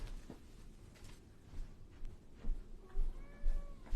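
A cat meows several times in quick succession near the end, clear harmonic cries over a noisy indoor background with some handling bumps.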